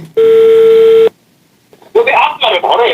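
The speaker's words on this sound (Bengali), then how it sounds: "আমি রিফাত ভাইকে ফোন দেব" A steady electronic telephone tone sounds for about a second, followed by a pause and then a voice speaking.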